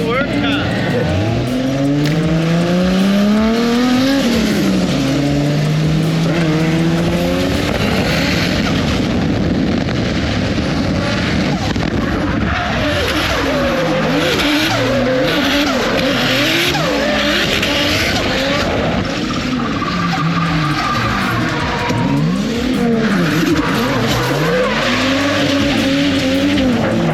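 A turbocharged Ford AU Falcon drift car roars loudly and continuously, its engine revving up and down while the tires squeal and skid through long slides, with voices talking faintly beneath the din.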